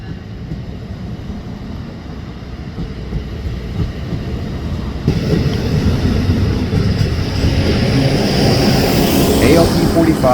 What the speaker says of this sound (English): the engineer in cab car 7044 makes the train accelerate